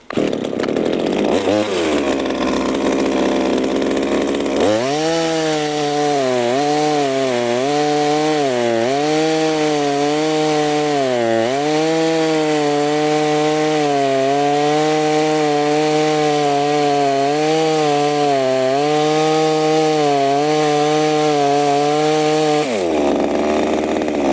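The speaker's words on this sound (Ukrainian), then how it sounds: "Пробуємо зараз розпустити сосну." A 25 cc ABS 350 petrol chainsaw rips lengthwise through pine wood, starting with a brief idle, then roaring loud and continuous for about twenty seconds with the pitch dipping and recovering under load before dropping back to idle.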